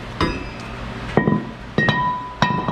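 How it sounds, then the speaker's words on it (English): Metal clinks and knocks as a brake rotor is worked off the hub of a GMC Savana 2500 van, four sharp separate impacts with ringing metallic tails, close by and without talk. "Let's pull the rotor."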